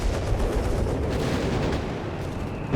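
Gunfire and shelling in the real-time strategy game Company of Heroes 3, a dense, rumbling stream of shots and blasts layered together without pause and with no voices.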